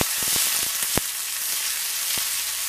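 Mustard seeds and curry leaves fry in hot oil for a clay-pot meal, making a loud, steady sizzle close by, broken by sharp pops and crackles that cluster early and then thin out to a few scattered bursts, with no talking.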